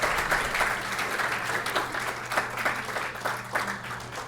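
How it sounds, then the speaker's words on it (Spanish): Steady applause from an audience at a university award presentation following a talk on obesity, moderately close, with distinct claps rising and falling for several seconds. "Un aplauso, por favor,"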